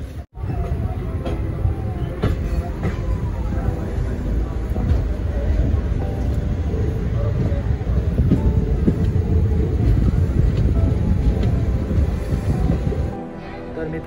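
Train 22156 on its Kolhapur to Solapur run makes a loud, steady rumble with rattling and wind noise for about thirteen seconds before it drops off abruptly near the end.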